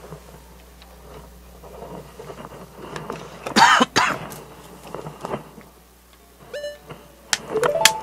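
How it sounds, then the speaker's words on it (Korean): A person playing The Legend of Zelda: Ocarina of Time coughs a few times close to the microphone, short harsh bursts over quiet game sounds and faint chimes. "기침이 또 계속 나서 물을 좀 마셨습니다."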